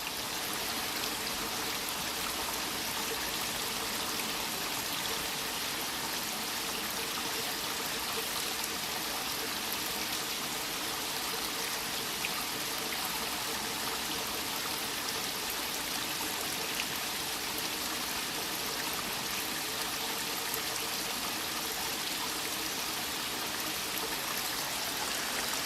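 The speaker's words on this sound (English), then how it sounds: "That sound of that water is making me sleepy." Steady water flowing in a mill pond stream, a continuous broadband rush and trickle that stays even and fairly close throughout, with no voices over it.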